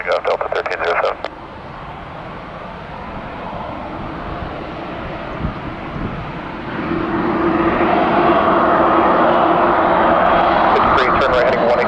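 A Delta airliner takes off at Detroit Metro Airport, its engine roar building steadily from a distant rumble to a loud, broad drone, after a short burst of radio chatter at the start.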